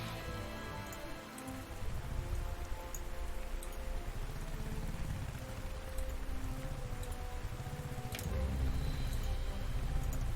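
Continuous rain ambience from the strategy video game Panzer Corps 1940, a steady hissing wash of falling drops with a low rumbling undertone, unbroken throughout.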